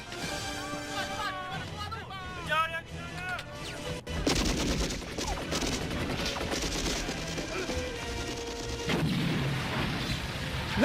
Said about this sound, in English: Jake comes out shooting, and a lot of gunfire and action happens